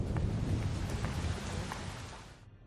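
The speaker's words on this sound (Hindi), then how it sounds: "आ जाओ, बारिश आने वाली है" Heavy rain pours steadily with a low thunder rumble underneath, dense and close, the wash of rain gradually easing toward the end with no voices.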